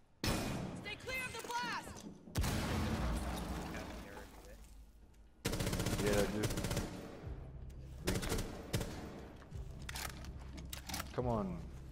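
Gunfire in Rainbow Six Siege: loud bursts of shots and impacts come in clusters over about twelve seconds, with voices talking throughout.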